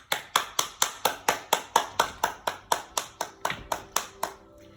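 Rhythmic clapping for school children at a reception and KS1 celebration gathering: about fifteen sharp, evenly spaced claps in steady unison, close and clear, ending abruptly with no talk.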